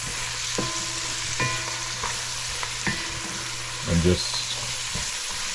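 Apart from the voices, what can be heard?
eggplant sauteing in oil with aromatics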